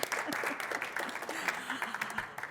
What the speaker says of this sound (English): let's give her a round of applause before we even start.